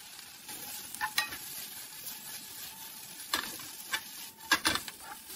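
Shredded dried pollock stir-fries in oil with garlic, a low continuous sizzle broken by several sharp clacks and scrapes of a utensil against the pan.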